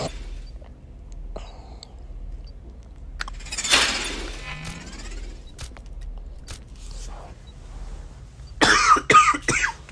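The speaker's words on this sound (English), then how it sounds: "And I am getting on a coughing frenzy." Several scattered coughs and throat-clearing sounds, one louder burst of rapid coughs near the end, over a quiet background hum.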